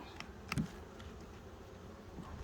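Bees buzz softly in a quiet, steady drone, with a brief louder buzz as one passes close.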